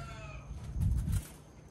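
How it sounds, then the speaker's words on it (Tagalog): Chickens making noise during an okra harvest: a short burst of low clucking close by over faint background sounds. "Ingay yung manok."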